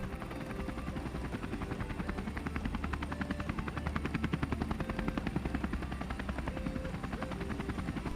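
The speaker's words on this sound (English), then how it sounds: "You get out of the heli, the machine goes away" A heliboarding helicopter leaving a mountaintop drop-off near Engelberg, its fast, steady rotor chop throbbing loudly and continuously throughout.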